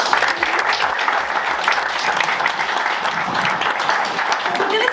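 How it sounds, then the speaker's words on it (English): A conference audience claps to welcome panelists onstage, with dense, steady applause filling the room throughout. "So come on up while I then give them a round of applause."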